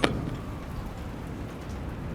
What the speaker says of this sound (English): Rain. Already here. Falling on all of it.